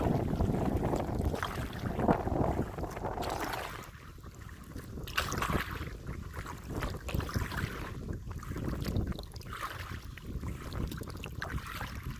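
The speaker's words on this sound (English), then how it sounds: "the wind is now picking up so much it's making nice little ripples on the water" Wind gusts buffet the microphone during a kayak paddle on a choppy creek, a steady broadband rush with louder swells, ripples on the water under a continuous roar.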